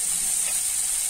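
Khoa (thickened milk solids) roasting in a pan over a low flame gives a steady, even, close sizzling hiss with no breaks and no speech.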